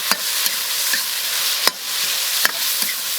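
Sauce with oyster sauce, soy sauce and dark soy sizzles steadily in a wok while being stir-fried, with sharp scrapes of the spatula striking the pan every second or so, close and loud.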